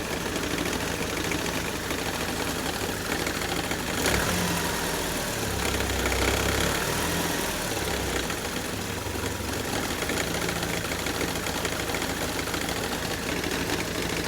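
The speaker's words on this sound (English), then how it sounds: "You're hearing the alternator knocking against." Running Saab engine idling with a loose alternator knocking against its mount, a continuous mechanical drone with a fast rattling knock close to the engine bay, with no talk.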